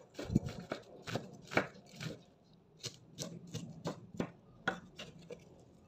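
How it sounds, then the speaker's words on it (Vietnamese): Repeated knife strokes chopping wood ear mushroom on a board, steady irregular rhythm of sharp thuds with a slight slicing scrape, close and clear, no talking. "tiếp đến mình cắt nấm mèo sợi nhỏ ra"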